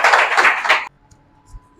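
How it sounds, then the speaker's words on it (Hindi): An audience at a sharing gathering claps together in a dense burst of applause lasting under a second, which stops abruptly and leaves a quiet room with faint murmurs. "एक बात ताली बजा लीजिए"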